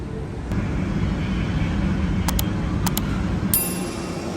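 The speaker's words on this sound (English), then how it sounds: "That's right, a shuttle to the F gates." Engine rumble of an American Airlines airside shuttle bus at Philadelphia airport, a steady low drone from inside the cabin, with a few short bright chime-like tones sounding near the end.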